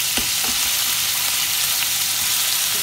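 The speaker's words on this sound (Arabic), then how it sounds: "نحركها حتى تغير اللون تاعها" Meat sizzling loudly in a pan for moussaka, a dense, steady hiss with a few scraping stir strokes near the start, close up and with no talking.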